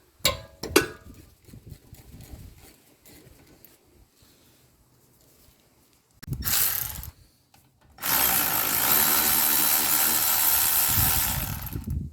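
Brake caliper slider pin bolts on a 2020 Mitsubishi Eclipse Cross 1.5 Turbo being cracked loose with hand tools, heard as scattered metallic clicks and clanks, then a short loud burst and a sustained loud ratcheting-like rush near the end.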